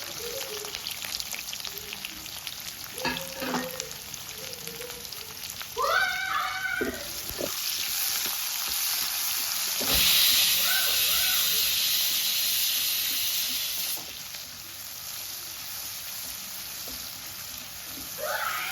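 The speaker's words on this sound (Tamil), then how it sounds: "அது கூடவே ஆனியனும் சேர்த்துக்கலாம்." Onion, clove and curry leaves sauté in oil for a jackfruit curry, a soft, fairly faint hiss and sizzle throughout, with a few brief tonal cries early on and a louder burst of crackling midway.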